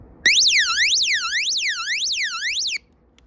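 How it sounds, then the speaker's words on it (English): A Zpincsipo emergency weather radio sounds its alarm: a loud, close electronic siren sweeping up and down in steady repeated arcs for about two and a half seconds, then cutting off abruptly into quiet. "And the sound of the radio and the alarm."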